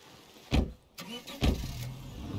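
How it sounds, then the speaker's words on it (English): A car engine in the video game State of Decay 2 turns over with two loud bursts about a second apart, then settles into a low steady running hum. "Alright, get in the car."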